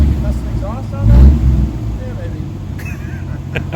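A 1982 Ford Granada two-door with a V8 idles with a leaking exhaust from a rotted flange, giving a steady low rumble with a brief swell near the start. Voices talk over the engine throughout.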